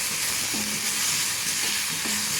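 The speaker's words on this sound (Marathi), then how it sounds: "आपण आलं लसूण आणि मिरची आपण टाकून घ्यायचं आहे आणि छान याला गॅसवरती असं शेकायचं आहे तेलामध्ये" A steady, loud sizzle of ginger, garlic and chili masala frying in oil over a gas flame, an even crackling wash running throughout with faint low tonal hums underneath.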